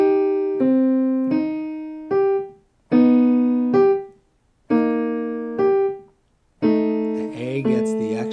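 Piano plays a short run of a song's notes one after another in a simple beginner arrangement, clear sustained tones with brief gaps between groups, ending in a quicker flurry of notes, no talking.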